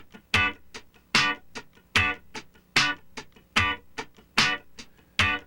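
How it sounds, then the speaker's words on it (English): Funk rhythm guitar strummed with muted strokes, sharp percussive downstroke accents landing on the downbeat in an even, repeating pulse, with softer ghost strums between them, played close and alone. "Let's start with the first downstroke. It's called the downbeat."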